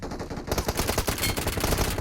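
Rapid gunfire in the mobile battle royale game PUBG Mobile, loud bursts of automatic shots in a fast, dense rhythm over about two seconds, close by and with no talk over them.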